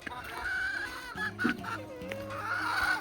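Hens cluck and murmur close by in a netted coop in a garden, a few short throaty calls rising and falling over a soft background.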